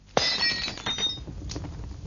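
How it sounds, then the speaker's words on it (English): A lamp is smashed onto torn paper and scattered straw in a radio drama, producing a sudden loud glass crash followed by a scatter of tinkling shards and light debris. "I grabbed the lamp and smashed it onto the torn paper and scattered straw."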